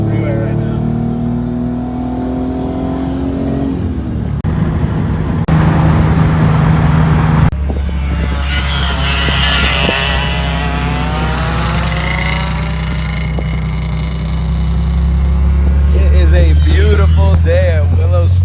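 A stock, naturally aspirated Nissan 300ZX Z32 pulling onto the freeway, its engine revving up through the gears with shifts and rising drone over road and wind noise, recorded close inside the car.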